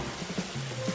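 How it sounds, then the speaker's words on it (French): Rain falls onto water in a Blox Fruits game world, a short soft patter of drops and small ripples, steady and close, with no voices. "une île plutôt remplie, avec un joli effet de pluie"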